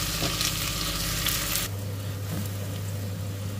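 Ricado aromatics sautéing in a pan for Filipino chicken adobo: a bright, loud sizzle that drops suddenly partway through to a quieter, lower frying hiss with a steady hum.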